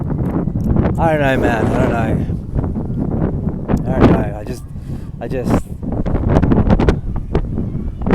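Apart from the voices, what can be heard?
strong wind blowing into the microphone outdoors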